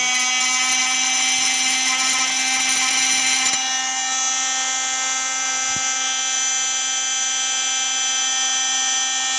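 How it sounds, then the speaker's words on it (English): A small rotary tool fitted with a diamond grit blade whines at a steady high pitch while cleaning rust from a brake caliper bracket, loud for the first few seconds, then spinning on more lightly with a brief click midway. "this is what I use. It's got a little diamond grit blade on it."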